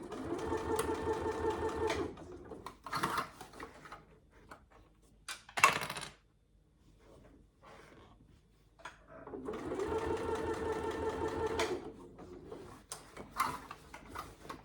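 A sewing machine stitches a saddle bag in two sustained runs, each a few seconds long, with short bursts and pauses of handling between them. No one speaks.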